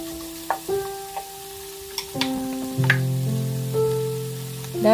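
Kimchi noodles with chives stir-fried in a pan, a faint steady sizzle under scattered clinks and scrapes of a utensil, with sustained tonal ringing that fades in and out.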